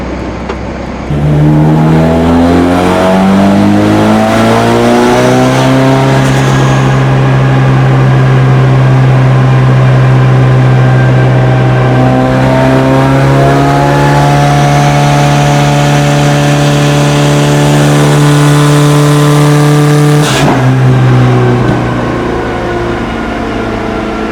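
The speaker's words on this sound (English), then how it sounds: "we should start doing some turbo noises" A turbocharged Mazda Miata engine runs loud and close on a dyno, climbing slowly in pitch under sustained load, then easing off with a sharp mechanical whoosh near the end.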